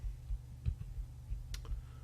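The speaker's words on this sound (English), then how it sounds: "you're probably hearing me clicking, and I'm just clicking up and down" Soft, scattered clicks and taps of a Wacom tablet pen and keyboard, quiet and irregular, over a low background hum.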